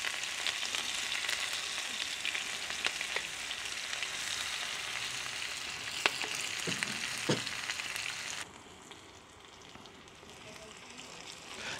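Onions sizzle and fry steadily in a pot over an outdoor chulha cooking fire, a continuous crackling hiss with a few sharper pops, growing noticeably quieter toward the end.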